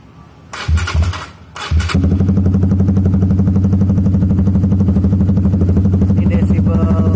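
A Honda Supra GTR motorcycle fitted with a ProLiner exhaust starts after a couple of loud bursts, then settles into a steady, close, throbbing idle, with brief talk near the end.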